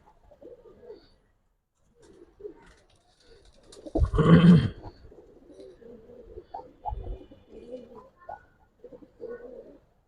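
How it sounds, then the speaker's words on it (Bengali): Racing and colored pigeons coo in low, throaty bursts close by, with one stronger swell midway and softer intermittent calls around it, no clear talking. "দেখেন দুইটা কবুতর"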